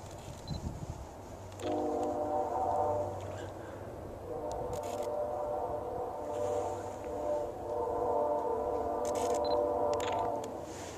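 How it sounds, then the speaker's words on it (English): A loud train rumbles past with a sustained droning horn-like tone that swells and repeats, close by, with faint voices in the background. "That's a loud train."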